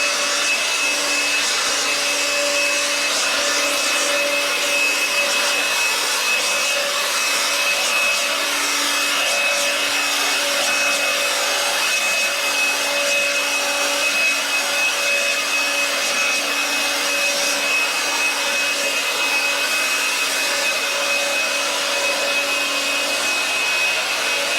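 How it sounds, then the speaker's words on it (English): Steady loud blower noise used to clear dust from a swimming pool floor before tiling, a continuous whooshing roar with a faint tonal hum, sustained without pause and without talk. "I just give it a blow just to make sure there is no dust on the floor"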